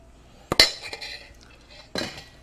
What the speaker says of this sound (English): Let's spoon this mixture onto the meat and spread it out.